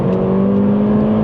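A Mercedes A45 AMG in Sports Plus mode holds a loud, steady engine drone heard close from inside the car, a smooth humming rev without a break.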